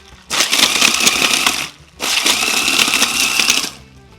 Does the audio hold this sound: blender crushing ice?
yes